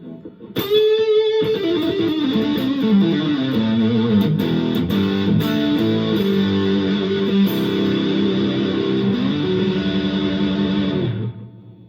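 Fender electric guitar played through heavy distortion on the neck pickup, a loud sustained run of chords and notes lasting about eleven seconds before cutting off, with no voices.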